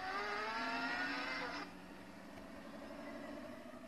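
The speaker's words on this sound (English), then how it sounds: "if this car can drift, can it drift?" A car engine in the Roblox game Vehicle Simulator roars at high revs while drifting, with a steady harmonic whine, then drops to a lower droning tone partway through, continuing without a break.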